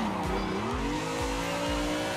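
A drifting car in a driving simulator game holds a steady engine drone with rising tire squeal, a continuous loud screech of sliding tires with a repeating low thump about every half second, no voices.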